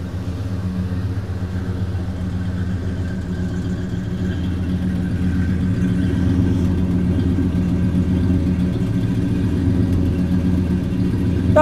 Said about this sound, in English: But the motor sounds really good.